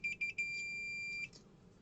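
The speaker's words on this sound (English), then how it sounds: "the multimeter beeps." A digital multimeter set to continuity mode beeps in three quick chirps, then holds one long steady tone for nearly a second before cutting off, with the leads used to check a water-level sensor for a garden controller.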